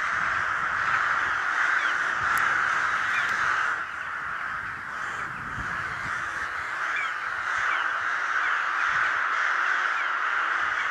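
A large autumn flock of rooks cawing continuously, many overlapping harsh calls at moderate distance forming a dense, steady chorus throughout with no talking.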